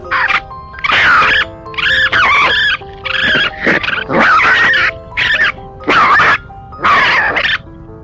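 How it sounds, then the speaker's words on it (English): Raccoons fighting give off a rapid series of loud, harsh squeals, snarls and chattering screeches in close, choppy bursts with brief gaps between them. "Raccoons fighting."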